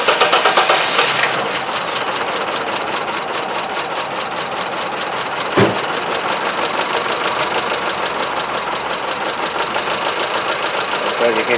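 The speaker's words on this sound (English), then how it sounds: "now start the engine and do the drop test again" A Honda Civic engine with a misfire fires up and settles into idle, a loud starter burst followed by a continuous rough mechanical hum with a faint uneven pulse and a single sharp knock partway through.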